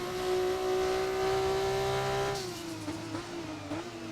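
Race car engine in a racing video game at the Chinese Grand Prix, held at a high, steady whine on throttle, then dipping in pitch and wavering as the car lifts slightly.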